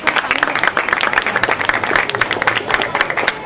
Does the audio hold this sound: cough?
no